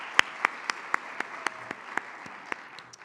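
An audience at an in-person children's awards celebration claps, a sparse run of about a dozen distinct handclaps spread evenly over a few seconds, with no cheering voices.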